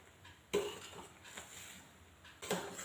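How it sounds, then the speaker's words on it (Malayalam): A spoon stirs aval payasam, rice flakes cooking in milk, in a metal pot, with two sharp scrapes against the pot wall and soft sloshing between them, close and fairly quiet. "നമ്മളിതൊന്ന് ഇളക്കി കൊടുക്കാം."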